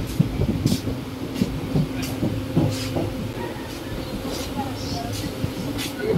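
A passenger train rolls along with a continuous low rumble and rhythmic clatter of the carriages heard from inside, with occasional knocks and faint background voices.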